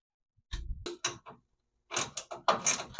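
A ratchet wrench working bolts loose on a Toyota FJ40, with short bursts of rapid mechanical clicking separated by brief pauses, close and fairly loud.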